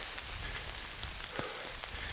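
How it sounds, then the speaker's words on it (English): Steady rain falls on a wooded hiking trail, a dense, even hiss of drops with a few sharper patters standing out, continuous and fairly close, with nobody talking. "Yeah, the rain is really weird."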